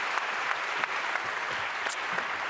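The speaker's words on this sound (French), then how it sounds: "On vous raccompagne voilà, sous les applaudissements de la salle." A hall audience at an annual conference round table applauds a departing speaker, dense steady clapping with a few sharper claps standing out, fairly close and even throughout.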